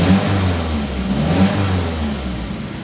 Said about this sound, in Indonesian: Ini saya gas